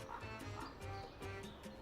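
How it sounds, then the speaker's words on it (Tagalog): A dog in an animated Filipino horror story gives several short, soft barks and yips in a quick rhythm, fairly faint and close by. "Agad na lumingon ang aso at lumapit kay Buboy"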